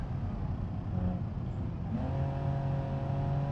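A Mercedes mod car's engine drones steadily while driving in BeamNG.drive, a close, continuous hum whose pitch steps up partway through as it accelerates, with no talk over it.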